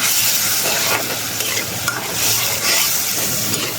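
Ginger paste and cumin paste fry noisily in a pan while a spoon stirs them, giving a loud, steady sizzle with repeated scraping strokes and no voices.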